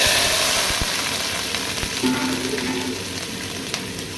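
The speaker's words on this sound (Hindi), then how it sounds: "इसमें अभी लहसुन डालेंगे" Garlic sizzles steadily in hot oil, a constant close frying hiss with occasional small pops and no voices.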